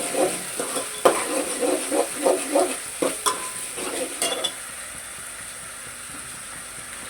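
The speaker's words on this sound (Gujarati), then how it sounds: "એટલે જરાક વાર આને આપણે ભૂની લેશું" Ginger garlic paste fries in a pan while a spoon stirs it in short scraping bursts, with a sizzle running underneath. The stirring stops after about four seconds and a quieter, steady frying hiss carries on.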